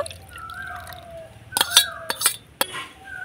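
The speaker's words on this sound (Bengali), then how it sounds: "সুজির বাটিটা ধুয়ে আমি একটুখানি জল দিয়ে দিব" A semolina bowl rinsed with a little water, light splashing and trickling mixed with sharp clinks of utensils against dishes, close by, with a faint voice in the background.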